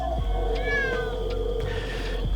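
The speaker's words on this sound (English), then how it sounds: "Black Cat, my favorite." A black cat meows repeatedly and loudly up close, several drawn-out rising and falling calls in a row during a spooky Halloween evening.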